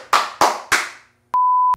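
A sound effect of three crisp, evenly spaced hand claps rings out alone, followed by a short electronic beep tone.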